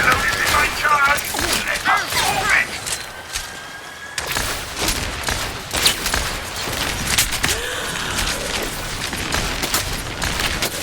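Rapid rocket fire and explosions from a Barrage ultimate in the video game Overwatch, a dense, loud volley of booms and bangs mixed with game effects and a voice talking throughout.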